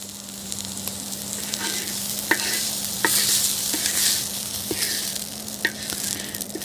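Steak, peppers and onions fajitas sizzling on a Tembo Tusk Skottle at a winter camp, a loud steady crackling sizzle with a low hum underneath and periodic sharp clicks of a spatula scraping the pan.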